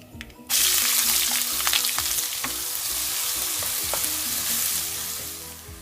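Chopped large onion frying in hot oil with cumin, fennel and mustard seeds, a loud steady sizzle bursting in after a brief quiet start, with scraping stirs in the pan and no talk.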